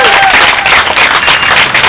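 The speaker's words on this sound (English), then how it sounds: "you deserve a round of applause" Loud, dense applause from a crowd at a political speech fills the moment, a continuous wash of clapping with no pauses.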